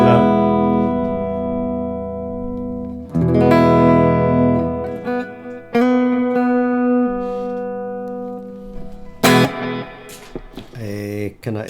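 Electric guitar with an edge-of-breakup tone through a Helix pedal, sustained chords and single notes ringing with slight grit, close and fairly loud, a few sharp strums near the end.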